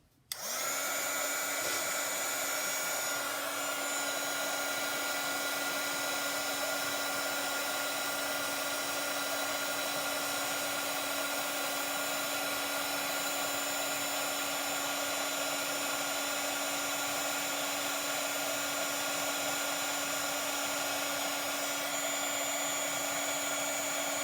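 A heat tool blows continuously on puff paint, a close, loud, steady airy whoosh with a constant motor whine that runs unbroken after a quick start, with no talking.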